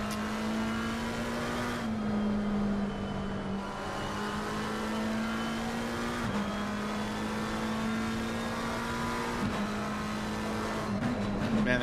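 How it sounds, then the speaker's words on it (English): Race car engine at Laguna Seca raceway during a racing event, a loud sustained drone holding steady pitch with brief dips at gear changes, continuous throughout with no talk. "Man, that car sounds nice."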